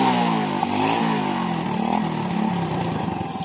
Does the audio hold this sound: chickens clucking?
no